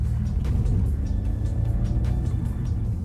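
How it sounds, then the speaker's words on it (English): Ford Mustang Mach-E GT propulsion sound while accelerating, a continuous low synthetic rumble heard close inside the cabin, steady and fairly loud with faint higher whooshes pulsing over it. "you actually hear a low rumble as you mash the throttle"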